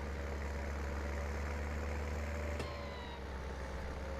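A steady tractor engine drone idles throughout in a farming video game, Deutz Fahr DX4, with a faint high whine riding on top and a brief click partway through.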